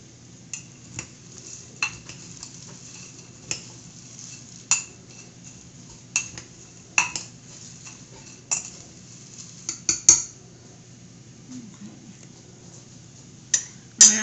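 Chocolate and peanuts stirred in a pot, giving scattered metallic clinks and scrapes of a utensil against the pot at irregular intervals over a steady low background hum, fairly close and with no talk.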